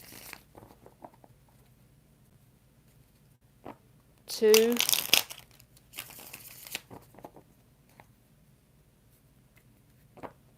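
Tarot cards shuffled by hand, a couple of short crisp riffling bursts with softer shuffling between, heard close up as a person quietly counts along.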